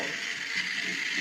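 Battery-powered toy police car running after being switched on, a steady close mechanical whirring buzz with a ratchety gear texture, continuous and unbroken.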